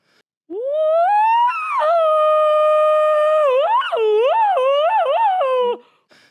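A voice imitating a deep, guttural elephant mating call during a live tabletop roleplay event: one long, loud, sustained bellow with a rising start, then warbling, wavering pitch swoops before fading out.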